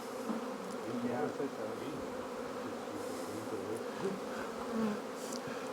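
Honey bees drone steadily around a hive during spring hive work, a thick, low buzz, with individual bees rising and falling in pitch as they fly close by.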